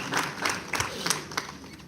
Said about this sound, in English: May I request everyone to give a round of applause to Sir.